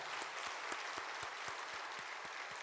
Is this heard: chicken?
no